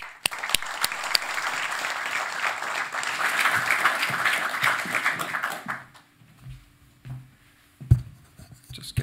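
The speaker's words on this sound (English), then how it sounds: "A warm applause." Audience applause at a summit conference as a deputy assistant secretary general takes the stage, dense and steady for about six seconds before thinning to scattered claps and fading into quiet room noise.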